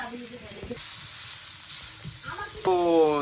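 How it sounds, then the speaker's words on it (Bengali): Onion and chili sizzle in hot frying oil for a Bengali fish dish, a steady broadband hiss that rises after a brief clatter, with a voice heard near the end. "এবার দিয়ে দেওয়া হলো পেঁয়াজ এবং লঙ্কা"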